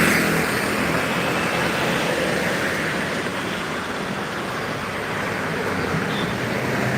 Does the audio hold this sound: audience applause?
no